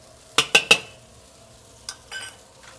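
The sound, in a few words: scallions added and stirred into simmering sesame beef sauce in wok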